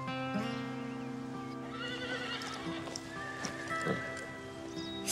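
A horse whinnies with a long, high, wavering neigh over steady hoof clip-clop and soft background rustle, the call rising and falling across several seconds before fading.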